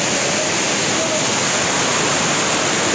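Olichi waterfall in Thrissur, Kerala roars as a steady, loud, broadband rush of falling water, continuous and close, with no other distinct sounds.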